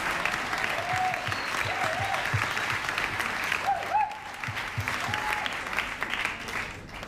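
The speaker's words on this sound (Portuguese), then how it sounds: "Los aplaudimos nosotros a ellos también." An audience at The Cavern applauds a choir with steady, dense clapping throughout, a few voices calling out over it.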